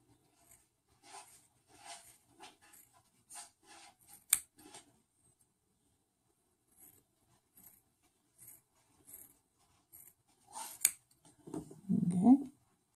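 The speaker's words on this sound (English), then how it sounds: "I actually have it in my trusty dandy little coil master kit. And okay, there you go. I'm gonna cut a couple strips." Scissors from a coil-building kit snipping strips of wick material for a vape build: a series of close, crisp cuts in irregular rhythm, then a brief rustle and louder handling at the end.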